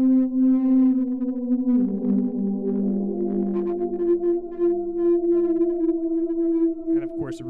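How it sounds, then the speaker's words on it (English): A bright synth lead from an Ableton Live set plays sustained, gliding notes through a filter, with a buzzy, slightly distorted edge, steady and prominent with no voices. "here's a lead sound, long ago and far away. Where I've got a filter here, I've got the ability to add some distortion."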